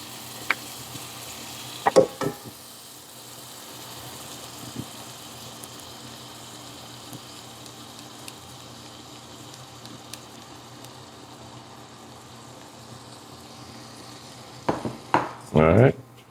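Washed jasmine rice for jollof is stirred into a pot, giving a soft, continuous low sizzle with a couple of sharp utensil knocks near the start and a cluster of louder clanks and scrapes at the end.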